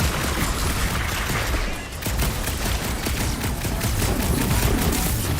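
Gunfire in the Guardians of the Galaxy video game crackles continuously and loudly, with rapid overlapping shots and impacts forming a dense, steady wall of combat noise.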